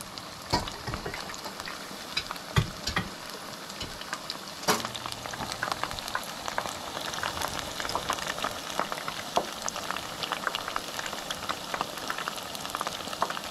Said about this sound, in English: the cusk conglomerate I have frying up right now